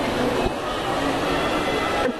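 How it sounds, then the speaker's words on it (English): An Etihad aircraft taxis at an airport with a steady, loud mechanical rumble and hum. Brief clunks cut through it, and a voice can be heard under the noise. "Etihad aircraft is currently taxiing here at the airport."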